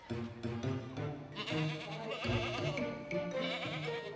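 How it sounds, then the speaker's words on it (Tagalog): Several nanny goats about to be hand-milked bleat in overlapping, wavering cries, close by and fairly loud, with barnyard bustle underneath and no talking. "Ito yung mga mommy kambing nila na gagatasan na natin."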